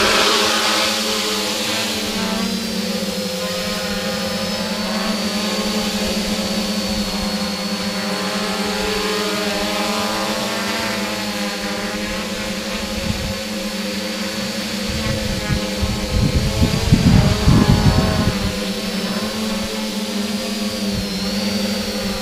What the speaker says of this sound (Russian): Теперь взлетаем и удерживаем в горизонте наш квадрокоптер около 20 секунд.